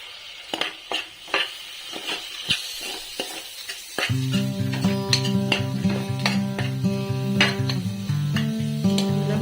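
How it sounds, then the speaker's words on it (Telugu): Ginger garlic paste with garam masala and biryani masala frying in a pressure cooker for egg biryani: sharp spoon clinks and scrapes, then a louder sizzle with a steady pitched tone running underneath, close and without voices. "అల్లం వెల్లుల్లి పేస్ట్, గరం మసాలా 1 స్పూన్, బిర్యానీ మసాలా ఇవన్నీ వేగుతుండగానే వేసుకోవాలండి."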